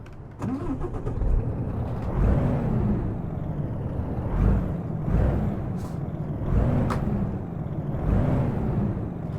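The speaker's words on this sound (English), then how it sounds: "let's start it up from the outside. We got the stack, so let's see how it sounds" A heavy Peterbilt 579 truck engine with an upgraded exhaust stack, heard from outside in American Truck Simulator, cranks and rumbles in repeated surging waves, deep and loud, with no talking.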